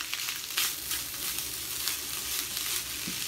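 Turkey sizzles in a pan for a one-meal stir fry, a soft steady crackling hiss with a few louder pops and stirring scrapes.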